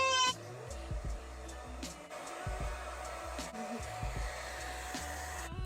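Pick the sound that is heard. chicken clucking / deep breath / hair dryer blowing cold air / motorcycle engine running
hair dryer blowing cold air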